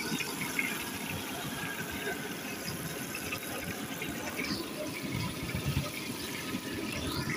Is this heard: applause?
no